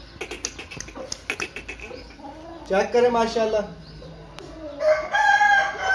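Aseel rooster at a Multan chicken market crowing in two long drawn-out calls, loud and close, with someone talking over the start and briefly in between.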